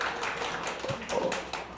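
A short burst of scattered clapping from an audience at a spring regional-studies seminar in Sejong, brief and moderately close, with no speech over it.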